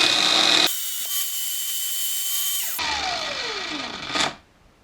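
An improvised poor man's lathe spins a small part for a Mazda RX8 6-speed gear linkage, a loud continuous whine with a steady tone, then a pause, a falling pitch as it spins down, and a brief final scrape before quiet.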